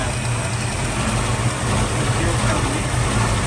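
A Valiant VH Charger engine idles with a steady, slightly uneven low rumble, close and fairly loud throughout.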